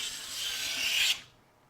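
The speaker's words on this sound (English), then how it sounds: "This is Laminex, or Formica, that I'm planing at the moment" A hand plane shaves Laminex (Formica) laminate glued to plywood in one short, bright rasping stroke of about a second that cuts off sharply, close and clear with no talk.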